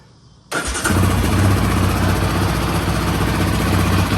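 A 2021 Yamaha Raptor 700R ATV engine with stock exhaust cranks and roars to life after a brief quiet moment, then settles into a loud, steady rumbling idle close by.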